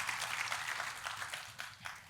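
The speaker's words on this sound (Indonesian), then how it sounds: "Tepuk tangannya boleh sekali lagi yang paling meriah buat Tuhan." A church congregation applauding during a worship service, a dense, steady patter of many hands clapping at once, moderately distant and sustained throughout.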